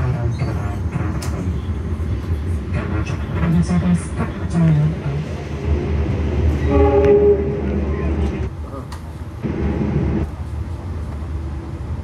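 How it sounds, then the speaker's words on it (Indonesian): Argo Lawu passenger train running from Solo to Jakarta, a steady low rumble of cars on the rails with a horn sounding partway through, while voices talk over the noise. "Perjalanan kereta api Argo Lawu jam 9:18 menit"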